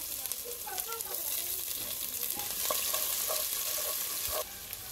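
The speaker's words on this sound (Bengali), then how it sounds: "তো এই যে এখানে তেল দিয়ে দিচ্ছি।" Onions and green chilies frying in oil in a pan, a continuous close sizzle with scattered pops and spatula scrapes, loud and steady with no talk.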